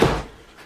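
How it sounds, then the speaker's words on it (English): A door bumps shut behind someone at home, one short muffled knock that quickly fades. "if you heard a door behind me, I think my wife and my dog just came home"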